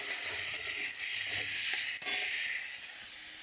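Raw hog plum pieces fry with salt in a pan, giving a steady, fairly loud sizzle with a few faint stirring scrapes and no voices.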